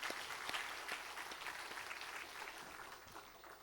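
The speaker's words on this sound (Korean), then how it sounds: "우리 경례의 박수 한번 더 할까요?" A church congregation at a Sunday worship service gives steady applause, fairly faint and distant, dense clapping with a few distinct claps and no talk.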